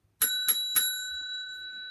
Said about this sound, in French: dès que la petite sonnette sonne, eh bien, on se tait et on écoute l'histoire attentivement